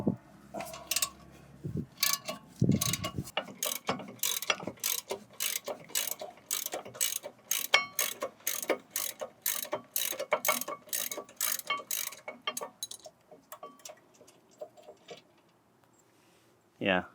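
A ratchet wrench loosening tight, red thread-locked rear brake bolts on a 2014–2016 Kia Forte: steady close clicking pawl strokes in a fast, even rhythm, with a few heavier clunks early on and quiet pauses near the end.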